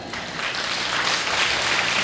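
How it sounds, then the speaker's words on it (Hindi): An audience at a Hindi comic poetry gathering applauds, with a short burst of dense, continuous clapping that holds steady throughout. "आशीर्वाद दे दीजिए इसका मतलब है ताली बजानी है"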